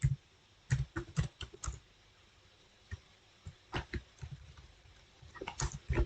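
Keys clatter on a computer keyboard in short bursts of typing separated by pauses, close and fairly quiet, with no voices.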